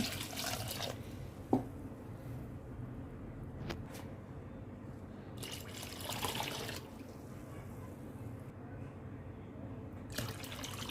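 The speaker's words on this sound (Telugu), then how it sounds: "నీళ్ళు పోసానండి" Water is poured into a pot for tomato rasam with tamarind and coriander, making a steady, close rush of liquid that runs for several seconds with a few faint clinks.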